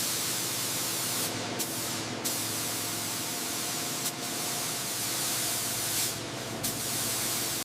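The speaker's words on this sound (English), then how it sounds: "Initiating spray sequence." Spray gun laying a black base coat on a giant mining truck gives a steady, loud hiss of paint mist that runs unbroken, with a few brief dips where the trigger eases off.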